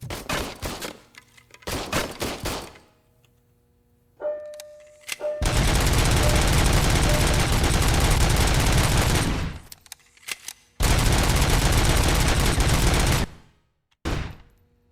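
Bursts of automatic gunfire at a shooting range in RoboCop: Rogue City, two long sustained volleys and several shorter strings of shots, loud and close, separated by brief quiet gaps.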